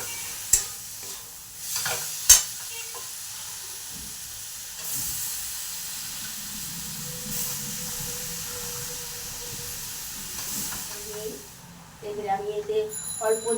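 Cabbage added to fried spices in a hot pan sizzles softly and steadily, with occasional clanks of a spoon stirring and scraping, at close range.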